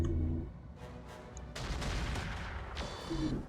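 Mech weapons in Roguetech pound a dragon mech, with loud overlapping booms and rumbling impacts that swell and continue as a sustained barrage.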